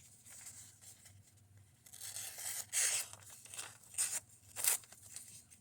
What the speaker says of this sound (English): Let's go on the difficult paper that don't like cutting